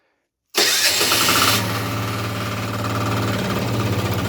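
A walk-behind motoblock tractor engine cranks and catches after silence, roaring up briefly then settling into a steady, close, throbbing idle; battery terminals had been corroded.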